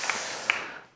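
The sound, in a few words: congregation clapping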